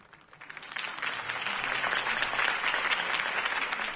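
A crowd breaks into applause that swells within a second and holds as sustained, dense clapping and cheering, heard from a short distance, in the video game Batman: The Telltale Series.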